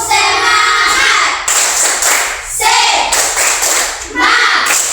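Children clap together in a rhythmic 'tepuk semangat' clapping chant in a classroom, the claps arriving in short bursts with pauses between them, loud and close, with voices joining in.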